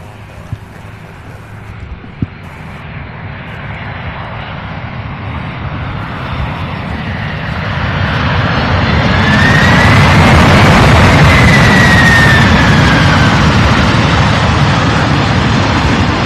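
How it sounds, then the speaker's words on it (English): An MD-11 jet flies past at Louisville airport, its engine roar building steadily from a distant rumble to a loud, sustained whine and roar that peaks near the end. "It's our first MD-11 of the day."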